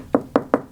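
Three sharp hammer knocks on a repaired fiberglass boat transom, evenly spaced and close, each a solid dull thud with a short ring.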